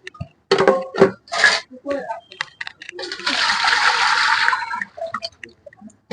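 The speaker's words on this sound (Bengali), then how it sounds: "ফেলে দিলাম জল।" Water is poured off washed potatoes in a bowl, a gushing splash lasting about a second and a half after someone speaks, followed by quieter talk.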